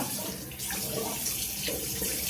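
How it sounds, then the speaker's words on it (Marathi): Steady running water from a tap splashes continuously while a face is washed at a sink, close and moderately loud with no talking. "मी छान चेहरा धुवून घेतला आहे"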